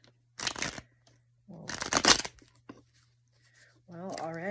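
Pagan Otherworlds tarot cards are shuffled in two short, crisp riffling bursts, close and fairly loud, with a low hum underneath and a voice speaking at the end.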